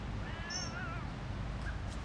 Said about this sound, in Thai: แมวก็อยากมาคุยด้วย